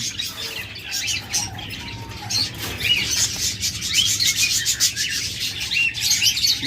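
Caged lovebirds, budgerigars and cockatiels at a bird seller's chirp and twitter densely and continuously. Fluttering and scratching rustles close by, and no one speaks.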